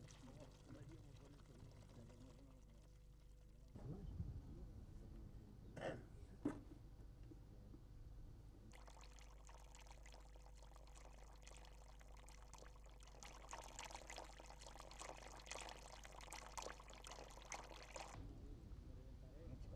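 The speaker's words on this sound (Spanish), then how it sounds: "Poco a poco se va dejando escapar el agua que, por su menor densidad, está debajo del aceite" Water from a lavender essential-oil distillation drains out of a funnel beneath the oil, giving a steady pouring trickle that swells louder in the later part, with a brief knock partway through.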